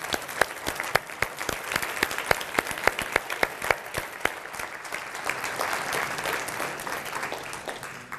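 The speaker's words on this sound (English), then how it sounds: "let's give them applause" An audience claps for soldiers in uniform at an Army event, a sustained burst of applause with sharp individual claps standing out early, then blending into a dense wash that continues to the end.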